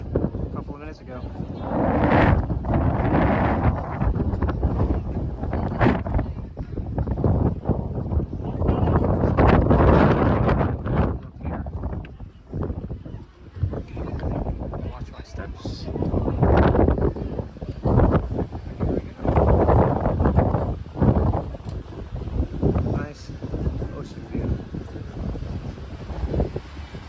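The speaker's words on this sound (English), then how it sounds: "I know it's very windy here" Strong wind buffets the microphone at the hilltop Castillo San Felipe del Morro fortress in San Juan, Puerto Rico, roaring in loud gusts throughout with talk mixed in.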